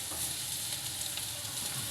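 Garlic fries in a pan with a continuous, fairly quiet sizzle and light stirring scrapes, steady from start to finish.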